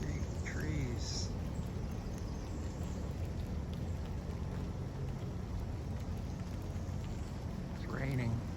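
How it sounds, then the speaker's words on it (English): Steady rain falls in an unlogged cypress swamp near Lake Monroe, Florida, a dense, even hiss throughout, with bird calls rising briefly at the start and end. "It's raining."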